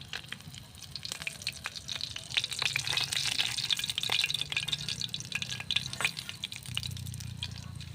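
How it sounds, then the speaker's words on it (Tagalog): Food sizzles in a pan while being stirred, a faint crackling fry with scraping and clinking of the utensil against the pan, close up and quiet, with no talk. "hauna natin yung prito mga kaidol no"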